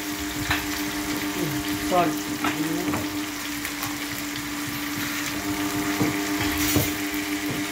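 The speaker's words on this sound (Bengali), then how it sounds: "আলুটাকে ছাড়লাম, আর একটু ভাজা হোক।" Potatoes fry in hot oil with a constant, close sizzle and crackle, and a utensil stirs them now and then. A low hum runs underneath, and a voice talks over part of the sizzling.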